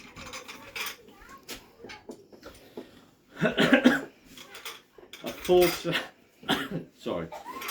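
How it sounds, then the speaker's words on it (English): A 1980s Chinese soup and sauce set of four bowls with spoons is handled, giving ceramic clinks and rattles in scattered bursts between people talking. "A 4-set Chinese soup and sauce set with spoons."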